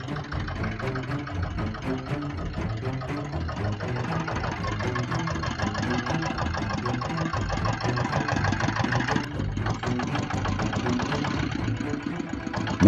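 A vintage diesel engine, set up and fine-tuned after assembly, runs at a steady idle with a dense, knocking mechanical clatter that stays loud and even throughout, with no talk.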